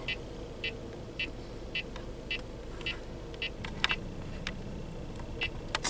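A car pulls out of a parking lot, its low cabin rumble steady throughout while a regular ticking, like a turn signal, clicks along at a steady pace.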